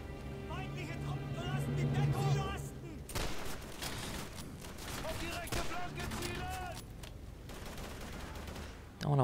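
Gunfire in the Xbox One game Call of Duty 3 comes as bursts of rifle and machine-gun shots, dense and loud, while someone talks over the sound in places.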